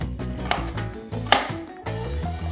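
A knife chops through an onion on a cutting board, three or four sharp knocks spaced about every half second, close and clear with no talking.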